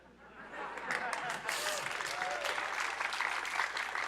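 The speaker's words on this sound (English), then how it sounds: "They're not clapping for a 6" An audience applauds in a large convention theatre during a live tabletop game stream, a dense, continuous wash of clapping and crowd noise that holds steady throughout, with voices mixed in.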